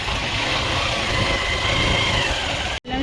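A motorbike engine runs steadily up close on a ride to Kalyan station, a constant even drone with no voices, cutting off abruptly just before the end.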